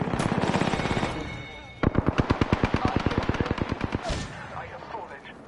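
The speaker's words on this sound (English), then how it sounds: "The enemy is shooting at me." Enemy gunfire in Apex Legends, long rapid automatic bursts crackling close and loud, one sustained stream giving way to a sharper, distinctly spaced volley before trailing off.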